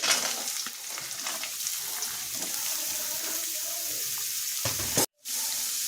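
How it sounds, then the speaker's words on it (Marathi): Beetroot pieces fry in a kadhai of tempered oil with mustard seeds, cumin and coriander, giving a continuous close sizzle with scraping stirs, broken by a brief dropout near the end before the frying resumes. "आता टाकून घेतलेलं आहे आपण बीट"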